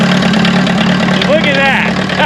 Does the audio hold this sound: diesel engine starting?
yes